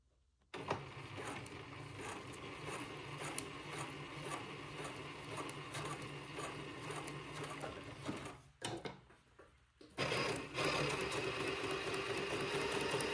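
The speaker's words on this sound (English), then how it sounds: "And sew my first basting thread." A sewing machine runs a long basting stitch on a baby bubble bodice, a steady close mechanical whir for about eight seconds, a short pause, then the motor starting up again and running on.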